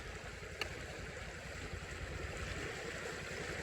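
A flowing creek on a farm rushes in a steady, faint wash of water with no talk over it.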